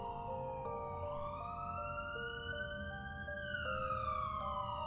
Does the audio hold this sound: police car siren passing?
yes